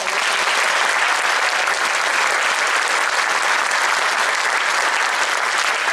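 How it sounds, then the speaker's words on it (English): A large audience at a junior high honor band concert applauds the band directors with loud, unbroken clapping that holds steady and full for several seconds. "can you give them a round of applause for all the work they did?"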